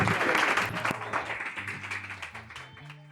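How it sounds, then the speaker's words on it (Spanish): Audience applause closing a talk, a burst of clapping that starts full and loud, then thins and fades over a few seconds as a soft musical tone comes in beneath it. "un fuerte aplauso para Dolores Fonsi y Francisca Aure"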